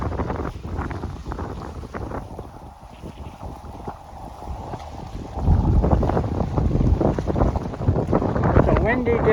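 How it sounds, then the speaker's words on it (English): Gusty wind on a lake pier at Lake Chapala, Mexico, buffeting the microphone as waves slosh and splash against the structure, growing louder and rougher partway through with steady rushing noise throughout. "It's a windy day on the pier in Lake Chapala, Mexico."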